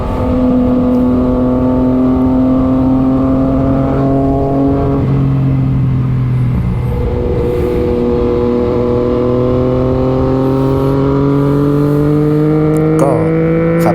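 A Yamaha MT-09 motorcycle engine is heard while riding, a loud, close, continuous drone that rises in pitch as it accelerates, drops at a gear change, then climbs again.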